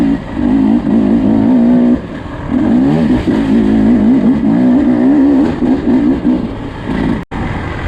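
A 2024 Beta 250 RR two-stroke dirt bike rides through mud, its engine loud and close with a steady buzzing drone that wavers as the throttle rises and falls, one short lull near the start and a brief cut near the end.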